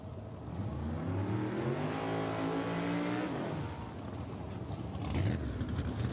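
A drag-racing Camaro roars down the strip at a racetrack, its engine note rising steadily through the gears before cutting off, then loud track noise resumes; no talking.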